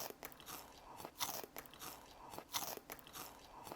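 Close, crisp crunching of someone biting and chewing crispy roasted dried pollack, in repeated bites with no talking.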